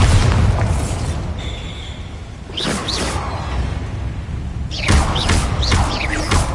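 Bombarda explosion spells burst in Hogwarts Legacy, with loud booming blasts and whooshing impacts, one around the middle and a cluster of heavier hits near the end over a rumbling game soundscape.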